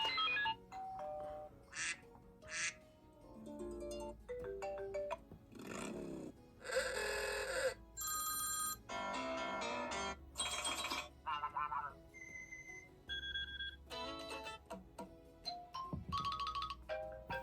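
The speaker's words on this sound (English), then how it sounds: "those are the iOS 6 and 7 ringtones for you" A run of iOS 6 and iOS 7 ringtones plays one after another, each a distinct electronic jingle, chime or quack-like tone, with short gaps between them and no talking.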